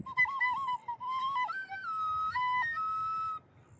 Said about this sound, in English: It's called a Clark's tin whistle